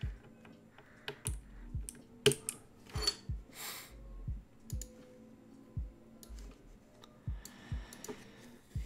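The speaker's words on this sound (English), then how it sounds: "we'll do some typing tests for that ASMR" Typing on a custom-built mechanical keyboard, a steady stream of close, crisp key clicks and clacks with an irregular rhythm and occasional heavier thocks, quiet and alone.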